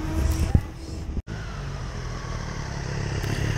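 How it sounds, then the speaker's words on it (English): A motorcycle on Route 100 rumbles in the background. It is a faint, distant, steady engine drone under quiet surroundings, with a brief clatter near the start. "You hear that motorcycle in the background? That's a guy going up and down Route 100."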